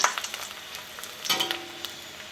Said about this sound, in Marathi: अशी आलटी पलटी करत आणि तळून घ्यायचे आपल्याला